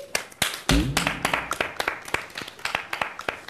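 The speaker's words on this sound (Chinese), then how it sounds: "让我们掌声欢迎王传君老师" A small audience claps to welcome a guest on a variety show. The claps are distinct and irregular, a scattered patter of hands near the listener, with a brief low thud early on and no talking.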